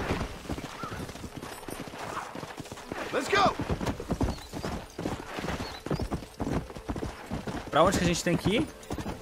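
Horse hooves clip-clop steadily in the Red Dead Redemption video game, with occasional neighs and whinnies, heard under ongoing talk from a player speaking Portuguese and English.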